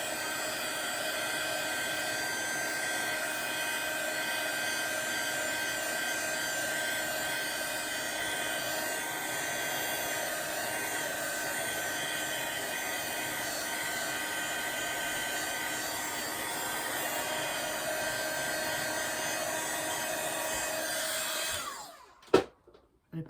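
A heat gun blasts a steady, loud whirring hiss while drying a watercolor Christmas card, holding constant for about twenty seconds before cutting off abruptly with a few clicks near the end.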